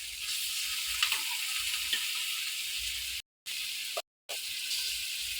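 Chicken pieces for pepper chicken sizzle and hiss steadily in a hot pan, a continuous close frying crackle with a few faint clinks and two brief dropouts.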